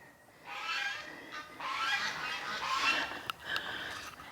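Geese honk in a couple of faint, drawn-out bursts from a short distance, overlapping calls with a soft background hiss.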